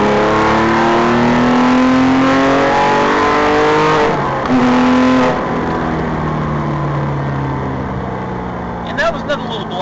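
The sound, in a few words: Porsche flat-six engine accelerating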